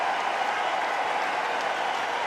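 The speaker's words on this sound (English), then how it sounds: "And his captain applauds him." Applause at a T20 international cricket match between India and West Indies marks Shivam Dube's half century, heard as a dense, continuous crowd clapping roar that stays steady and fairly distant, with no voices.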